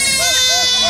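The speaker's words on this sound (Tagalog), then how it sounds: "Dininay sinakay sa van yung mga nabiling kambing." A goat at a livestock market gives a short wavering bleat, close and loud, blended with people talking nearby.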